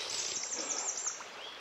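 Birds chirp and sing continuously over a steady broadband rush of a river, higher after rain, beside an old border path in Germany; moderate level, no voices.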